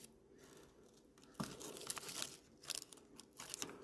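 Protective film peeled off a Dodge Ram 3500 dually headlight assembly, a quiet run of crackling, tearing bursts heard close up, alone and without talk.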